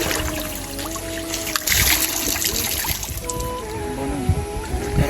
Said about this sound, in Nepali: बगुवा पानी छ चाहिँ सफा हुन्छ